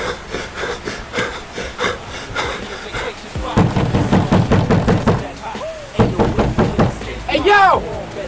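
Repeated loud knocks pound on a wooden door in quick bursts while someone shouts over them.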